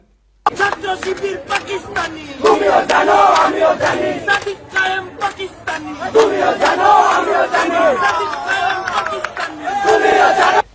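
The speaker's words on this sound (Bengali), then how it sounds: "এই যে দেখেন মেঘমাল্লার স্লোগান দেয়" A crowd chants political slogans in unison at a rally, loud rhythmic shouted phrases repeating with brief gaps, many voices close and energetic throughout.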